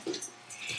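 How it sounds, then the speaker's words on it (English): A small dog gives short high yips and a faint whimper, close by, in a brief burst of under a second with quiet breathy gaps between the calls. "No, she barks."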